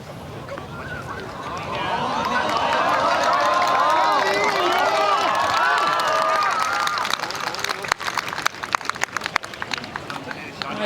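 Golf gallery at the LPGA Shanghai tournament cheering after an approach shot, a swelling crowd roar with scattered clapping that fades into applause, commentary voice over it.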